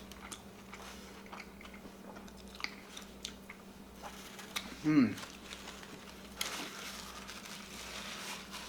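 Someone bites into and chews a teriyaki-sauced burger with pickled red onions and ginger at a Las Vegas burger restaurant, giving a close, soft crunch followed by quiet, moist chewing over faint background room noise.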